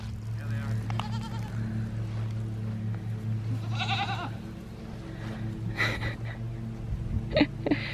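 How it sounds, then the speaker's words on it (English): Goats bleating in a barn, several short nasal calls standing out near and loud over a steady low hum, with a person talking among them. "Hi, sweet goat herd of mine."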